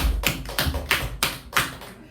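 Steady rhythmic clapping from a church congregation, a crisp clap roughly every third of a second, close and even in tempo.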